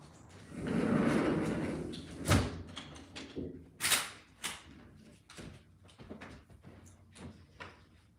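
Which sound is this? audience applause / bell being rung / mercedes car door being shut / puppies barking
mercedes car door being shut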